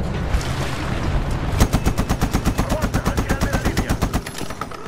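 Rapid machine gun fire in the video game Medal of Honor, a fast regular burst of loud close shots following a rumbling lead-in, with sparse game sounds around it.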